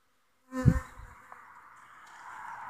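A honey bee swarm buzzes in a steady, close hum, starting with a brief low thump and continuing as a sustained drone.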